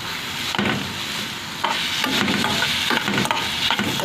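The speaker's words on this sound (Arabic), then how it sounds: "هقلب" Salt, cumin, chili and dried coriander being stirred in a hot pan on the stove for a simple Egyptian breakfast, with a close, continuous scraping and light sizzle, broken by a few sharper knocks of the utensil.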